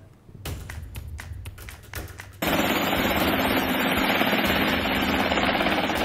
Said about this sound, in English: this is video of a helicopter taking off from a Spokane Valley man's private property.